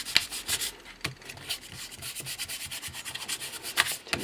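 Steady back-and-forth rubbing of a tool over a card for a baby christening, a soft dry scraping with quick rhythmic strokes, close and fairly quiet with no voices.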